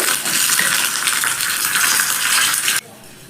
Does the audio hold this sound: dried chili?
yes